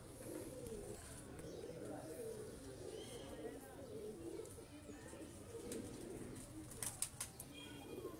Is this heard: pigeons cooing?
yes